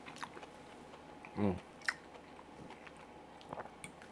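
A single crisp crunch of someone biting into chili mac and cheese, up close, with faint background noise and a few small clicks around it.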